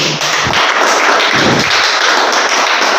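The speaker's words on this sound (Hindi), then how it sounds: "तो एक बार जोरदार तालियाँ हो जाए इसके लिए" Schoolchildren applaud at a school event, a loud, dense burst of clapping that holds steady for a few seconds, close and full.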